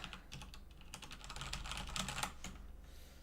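Rapid clicking of a computer keyboard, with irregular bursts of keystrokes close to the mic over a faint steady hum, no voices.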